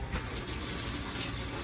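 Cold tap water runs steadily over an onion in a kitchen sink, a continuous close splashing rush with no talk.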